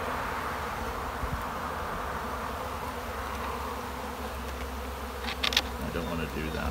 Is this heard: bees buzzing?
yes